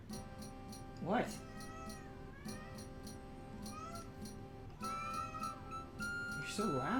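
A house cat lying on its stomach meows repeatedly, loud and close, each cry a rising-falling wail, while game music and sound effects play continuously underneath.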